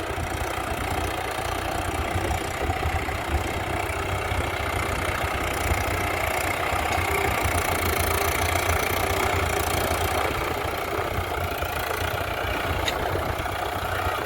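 A tractor engine idles steadily at a farm field, a continuous throbbing drone that holds unchanged for the whole stretch with no voices.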